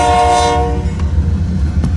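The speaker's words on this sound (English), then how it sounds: "now it's heading south with its loaded corn train on the Sioux City side" Loaded corn freight train heading south on the Sioux City side near Fremont, Nebraska, blasting a loud, sustained horn that fades into the rumble and rattle of passing cars.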